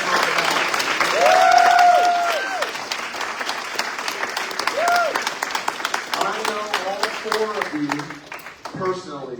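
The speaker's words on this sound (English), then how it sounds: "they all deserve a really big round of applause" Audience at a city council candidate forum claps for the candidates, scattered applause swelling and fading, with whistles or cheers early and people talking over the clapping toward the end.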